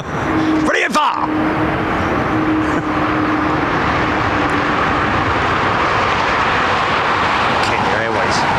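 An aircraft lands on runway 27R at London Heathrow, a broad, steady roar that is loud throughout, with brief sharp bursts near the start, and people talk over it.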